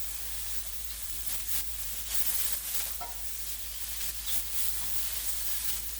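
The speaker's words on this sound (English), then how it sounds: "Then we're gonna go ahead and get our stir on again." Shrimp stir fry in olive oil sizzling steadily in a pan while being stirred, a continuous close hiss of frying with faint scraping, no voices.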